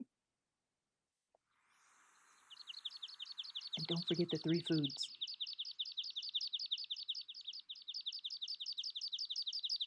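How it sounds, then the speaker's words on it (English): Recorded bird song: a rapid, high, repeating chirping phrase that runs steadily for several seconds and is fairly loud and close, while someone briefly speaks over it partway through. "So go ahead, listen to the bird call."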